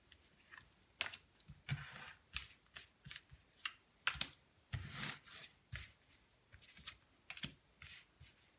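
Tarot cards riffled and shuffled by hand ahead of a reading, a series of crisp papery bursts in an uneven rhythm, close and fairly quiet, with no talking.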